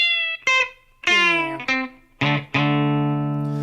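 Outlaw country lead played on a Telecaster electric guitar: a series of bright, twangy single notes and bends in a short phrase, each note ringing clearly and alone, ending on a long sustained tone.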